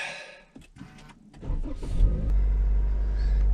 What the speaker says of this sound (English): Push the brake to start.